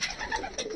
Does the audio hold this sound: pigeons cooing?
yes